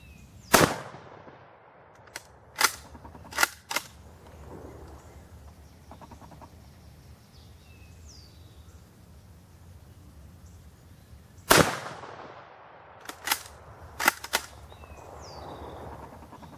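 Two bursts of sharp shots from a Mosin Nagant 91/30 7.62x54 rifle, a single crack followed by three quicker ones each time, echoing outdoors with a long quiet stretch between the groups.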